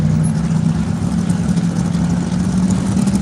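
Turbocharged pulling truck at a tractor pull on a dirt track, a steady, loud, low engine drone running evenly throughout, heard from a distance with no voices over it.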